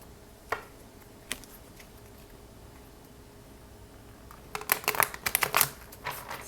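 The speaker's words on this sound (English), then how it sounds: "This deck is a bit too big to shuffle on that way." A large deck of pick-a-card reading cards is shuffled: a couple of isolated card taps come first, then a dense burst of riffling, flicking card noise toward the end, close and fairly quiet, with no talking.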